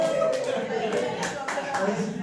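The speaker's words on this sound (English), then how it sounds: "Osvaldo, hey, give him a big clap." A small audience at a showcase event claps for the winner of a prize draw, a few bursts of scattered hand claps close by, with chatter and chuckling mixed in.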